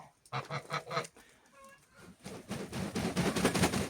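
Domestic geese fitted with leg rings honk in a farmyard, a run of repeated nasal calls near the microphone, then a busier, overlapping chorus of honking from several birds.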